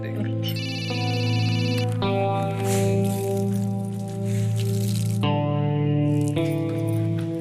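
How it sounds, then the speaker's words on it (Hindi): A telephone rings in a home in repeated electronic bursts, with short gaps between rings. Voices talk over it. "किसका फोन है?"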